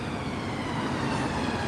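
An ambulance siren passes on a London street near Marble Arch, heard as a steady broadband wail mixed with dense traffic and city noise, fairly loud throughout with no talking.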